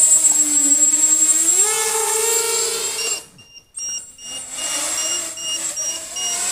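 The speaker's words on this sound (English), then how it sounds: "I'll show you how much noise it makes when it gets really low on battery." A quad RC LiPo battery voltage meter's low-battery alarm sounds as repeated high-pitched beeps, loud and close, following a rising whine from the model's motors that briefly cuts out.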